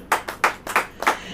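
A church congregation clapping hands in unison during a Hindi sermon, five sharp, evenly spaced claps close and loud with no talk over them.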